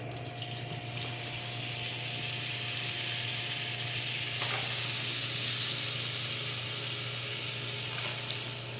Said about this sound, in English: 5 tablespoons of butter that we're going to put flour into right now